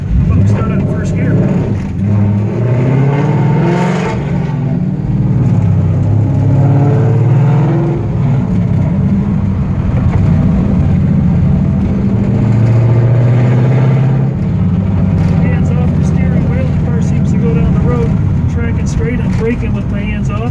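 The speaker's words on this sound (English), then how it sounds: "How about we start out in first gear?" A 1967 Eleanor pro touring car with a Coyote engine and six-speed gearbox pulls away in first gear, its engine a steady loud rumble inside the cabin, with people talking over it.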